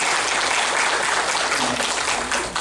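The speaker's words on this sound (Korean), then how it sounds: "크게 박수." Audience applause at the launch ceremony of the ICME-12 committee at the Korea Science and Technology Center, a dense, steady wash of clapping from a large crowd that fills the whole stretch with no talk.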